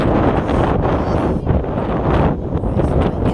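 Strong wind at Ramakkalmedu, Munnar, roars and buffets continuously, a loud, steady rush with gusty surges throughout and nothing else standing out.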